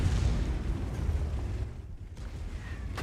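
Artillery shell blast in a tank video game: a heavy, loud low rumble fills the clip, easing off briefly in the middle before swelling again, with no talking.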